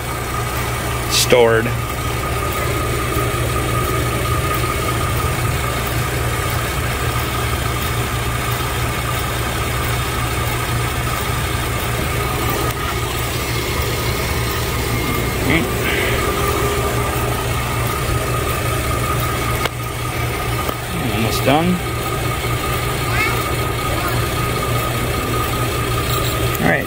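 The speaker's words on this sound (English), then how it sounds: "leave engine running at idle until prompted to turn engine off" A GM 3.6L direct injection engine idles steadily with a low, constant hum, close by, while a person speaks briefly over it.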